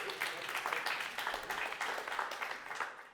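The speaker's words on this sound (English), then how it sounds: "that got an applause break because nobody thought you were 62" A comedy club audience breaks into applause during a crowd-work set, a dense, steady wash of clapping at moderate distance that holds for a few seconds.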